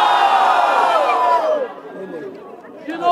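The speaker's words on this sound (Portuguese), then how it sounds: "barulho para cima de DNA" A large crowd at a rap battle roars with cheering and shouting, loud and dense at first, then fading into scattered chatter and voices before swelling again.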